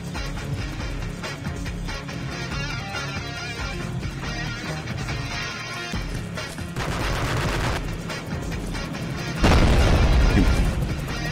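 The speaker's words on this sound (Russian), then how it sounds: "Там машины, походу, врезают, взрываются, что ли." Heavy, continuous combat noise in the video game Xenus: Boiling Point with booming blasts and gunfire as cars explode, building to a louder explosive burst near the end.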